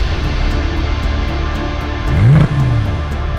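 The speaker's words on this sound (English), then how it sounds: "And now we will drive with e-boost. This really adds some forward propulsion. Wonderful acceleration." Porsche Panamera S E-Hybrid pulling away with electric e-boost, a loud close car engine under steady load that rises in pitch as it accelerates, then shifts briefly and carries on.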